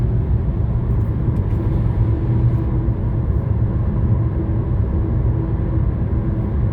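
An MG ZS car engine rumbles low and steady after the throttle is released from about 2000 rpm, a close, continuous idle drone with a slight settling of tone and no talking.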